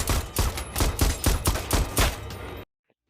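Pistol shots from the film No Time to Die, a rapid series of about eight loud, close gunshots in quick succession, ending abruptly in silence.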